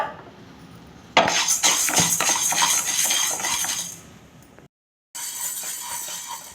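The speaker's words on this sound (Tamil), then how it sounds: "இப்போ 50 கிராம் வந்து பாசிப்பருப்பு முழுசாக எடுத்துக்கிட்டேன், அதை வறுத்துக்குவோம்" Whole moong dal being dry roasted in a kadai gives a loud, continuous dry rattle and clink of lentils scraped and tossed against metal, with a brief drop to silence partway before it resumes.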